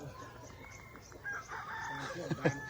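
Chickens cluck and a rooster crows in a small Lao village near Hin Heup, Vientiane Province, during a storm; the calls are fairly faint and distant, rising in the second half over a steady background.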